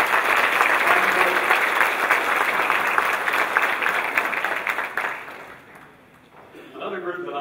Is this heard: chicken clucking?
no